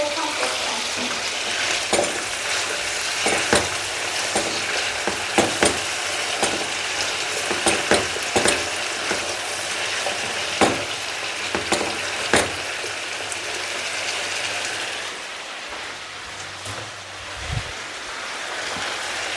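Chopped vegetables sizzle and fry in a hot pan during home cooking, a continuous bright hiss broken by frequent stirring scrapes and pops, with a quieter, duller stretch near the end.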